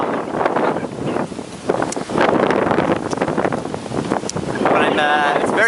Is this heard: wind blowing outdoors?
yes